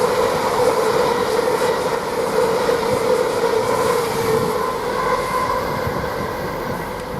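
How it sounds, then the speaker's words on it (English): An LNER express from Edinburgh to London King's Cross runs through Doncaster station, a loud sustained rumble and roar of carriages passing close by that eases slightly toward the end. "I believe that was from Edinburgh to London King's Cross, passing at 12:42"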